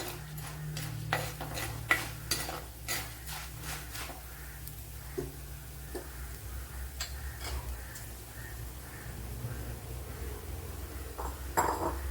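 Sweet potato pieces frying in a pan, with a soft sizzle under repeated scraping and tapping of a spoon as they are stirred, a low hum in the background.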